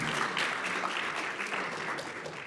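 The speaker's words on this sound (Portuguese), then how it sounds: "Uma salva de palmas, por favor," A seated audience at a crypto-assets panel event applauds, producing a continuous, moderately distant wash of many hands clapping that holds steady and eases off slightly toward the end.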